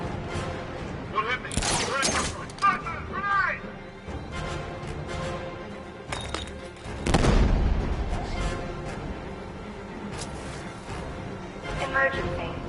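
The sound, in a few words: grenade explosion in a Batman video game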